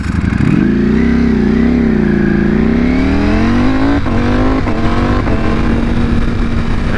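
A Ducati Panigale V4 SP with its 1103 cc V4 engine pulls away hard from a light, a loud, close roar rising steadily in pitch through the revs, with quick gear-change dips near the end.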